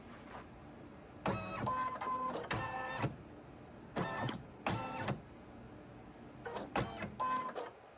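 A Brother Quattro embroidery machine scans its hoop with a series of short, quiet mechanical motor whirs, stopping and starting in bursts separated by near silence.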